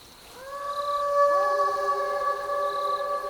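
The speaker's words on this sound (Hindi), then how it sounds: "तभी कहीं दूर से कुत्तों के रोने की आवाज आई" Long mournful howling of dogs in the distance on a rainy night, several drawn-out overlapping wailing tones rising in and holding steady, with no talk over them.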